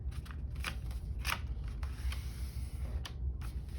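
Sheet of paper being lifted and creased while folding a jumbo paper airplane, with close, crisp rustles and sharp crackling swipes repeating every half second or so over a steady low background hum.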